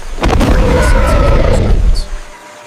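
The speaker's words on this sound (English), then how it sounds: "he issues a thunderous warning roar, a clear signal to the intruder that this island belongs to only one true king" A thunderous warning roar from the giant ape Kong bursts out loud and close, a deep rumbling growl that lasts about two seconds before trailing off.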